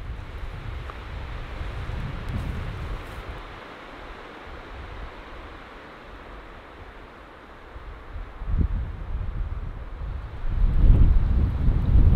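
Strong wind roars steadily across the microphone, easing midway then gusting louder toward the end, with no voices.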